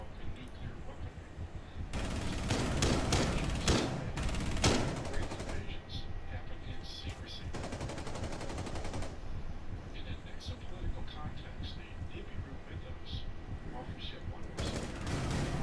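Bursts of rapid automatic gunfire and single shots in the tactical shooter Rainbow Six Siege, loud and close, in several clusters over steady keyboard and mouse clatter, with players talking excitedly between shots.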